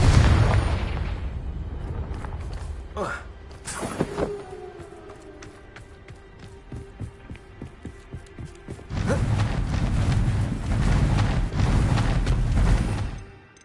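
Fiery explosive spell blasts from Hogwarts Legacy, with a sharp burst around the start, a lingering rumble, then a loud, dense stretch of crackling magical combat noise before fading, no voices present.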